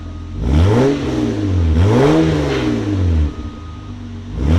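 A 1996 Toyota Land Cruiser's 4.5L inline-six revs twice through a loud Borla Pro XS exhaust with high-flow cats, pitch sweeping up and dropping back each time, close and powerful.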